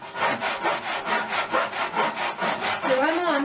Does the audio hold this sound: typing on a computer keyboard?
no